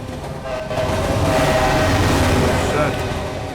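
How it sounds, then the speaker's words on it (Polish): A train thunders across the tracks directly overhead, a loud continuous rumbling roar with metallic clatter that swells in and holds steady throughout, heard from just below. "teraz widzowie zobaczycie, jak pociąg jedzie nad nami"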